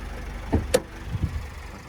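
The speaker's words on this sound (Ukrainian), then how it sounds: "От чути, як автомобіль працює." A 2012 Opel Vivaro 2.0 engine idles with a low, steady rumble, joined by a few brief knocks and thumps near the microphone.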